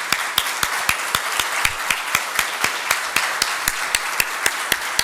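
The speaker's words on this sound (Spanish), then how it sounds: "para que pido un aplauso" Audience applause at a lecture on the Spanish language and cyberspace, settling into steady rhythmic clapping in unison at a quick, even beat, with softer scattered clapping underneath, and no talk.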